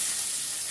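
Garlic cloves and green chillies sizzle in hot oil with crackled cumin while bohar bhaji, a Chhattisgarhi dish, is cooked, giving a brief, steady, close frying hiss with no speech.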